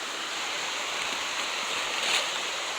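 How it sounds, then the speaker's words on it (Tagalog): Small waterfalls and a flowing stream at Ilayang Sapa along a slippery, mossy path, giving a steady broadband rush of water that stays even and close throughout with no voices. "Puro talon na maliit."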